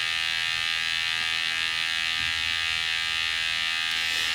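Q-Ray 3 wireless gas detector sounding its alarm, a loud, continuous high-pitched electronic buzzing tone held steadily for several seconds without a break.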